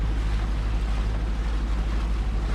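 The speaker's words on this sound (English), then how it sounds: "we have some wave action between a foot and a foot and a half." A sailboat moving at about six knots through foot-high waves on Lake Michigan near Charlevoix: a steady, close rush of water and wind with a deep continuous rumble, no voices.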